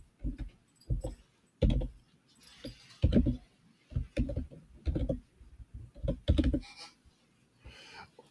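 Computer keyboard keys clack in irregular bursts of typing, close and fairly quiet, with short pauses between clusters of keystrokes and no talking.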